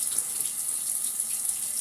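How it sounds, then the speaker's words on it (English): Faucet water running steadily into a sink during hand washing, a continuous close hiss with no talking. "And then you take a clean one and you turn off the faucet."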